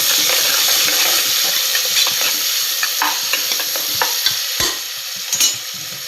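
Onions sauté in a pressure cooker for tomato chutney, sizzling steadily and close, with repeated scraping and clinking as a spoon stirs against the metal pot.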